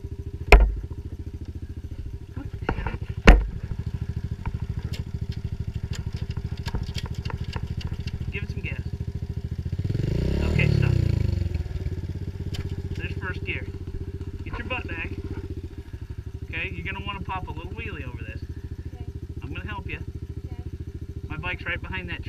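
Dirt bike motorcycle on a trail, engine idling steadily with a brief rev swell midway, close by, with scattered clatter and thumps and people talking over it.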